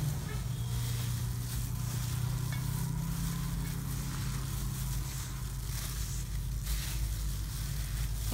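Cassava frying in a non-stick pan gives a steady sizzle, with a spoon or spatula stirring through it now and then, close and continuous.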